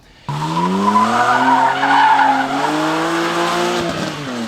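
Rear-wheel-drive car sliding out with its tires skidding: a sudden loud, sustained squeal that wavers in pitch as the tail drifts, with engine noise underneath and a brief break near the end.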